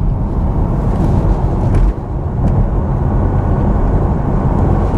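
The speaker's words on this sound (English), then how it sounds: "It does make an interesting whirry noise, and it sounds a little bit car-like from the outside." A 2022 Audi e-tron electric car drives along with a steady whirring hum and road noise, loud and continuous with a brief dip partway through.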